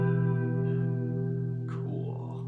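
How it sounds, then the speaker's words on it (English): Electric guitar played through a Behringer vibrato pedal, a sustained chord wobbling in pitch with a warbling, reverb-soaked tone, loud at first and slowly decaying, with a brief scrape or pick noise partway through. "because it's on my board right now, is this Behringer vibrato pedal,"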